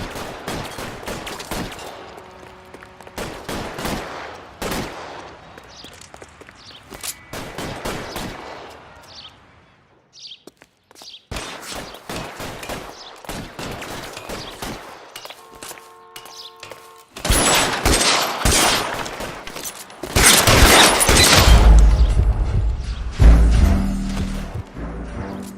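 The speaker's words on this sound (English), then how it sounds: "All units, shots fired." Gunfire in a shootout from L.A. Noire: sharp repeated shots with scattered bursts, growing louder and denser toward the end, with no talk over it.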